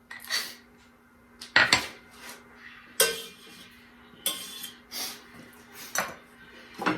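Oil and a soft pat of butter being stirred together in a pan with a utensil for caramelized onions, giving several close, sharp scrapes and clinks of metal against the pan at irregular intervals, with no talking.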